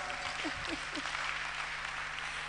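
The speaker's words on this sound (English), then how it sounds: "Guys, help me clap for them." An audience at a university campus tour event in Ghana claps for the speakers, a soft, steady patter that sounds somewhat distant, with a brief voice near the start.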